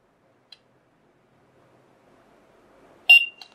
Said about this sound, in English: The Chime beeped.